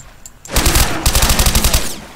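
Honey Badger rifle firing in Garry's Mod on a horror map: a rapid automatic burst of close, loud shots, with a brief pause around the middle before the stream of fire resumes.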